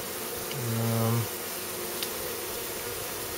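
Honeybees buzz around a newly installed hive, a steady outdoor hum with one louder bee passing close by for about a second.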